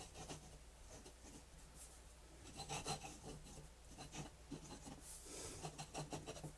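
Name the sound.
fountain pen writing on paper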